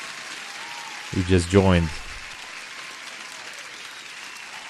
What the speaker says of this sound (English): let me give an applause once more for everyone else